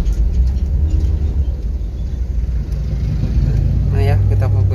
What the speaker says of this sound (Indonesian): Ngeri, bro, ada truk lewat